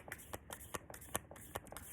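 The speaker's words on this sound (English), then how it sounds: "I'm going to shuffle again on here" A deck of tarot cards is shuffled by hand in quick, evenly spaced rustling slaps, close and crisp, repeating roughly every quarter second with no voice over it.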